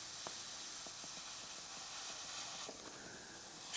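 Airbrush spraying a base coat in tight lines along a masking shield, giving a steady close hiss of air and paint with faint clicks from handling, no talking.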